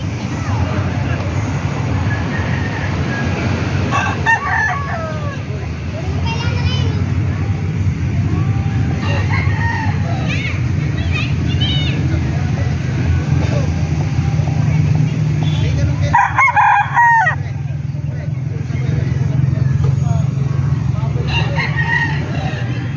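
Several roosters crow, some nearby and others farther off, over a steady low engine hum, with people talking and hens clucking in the background.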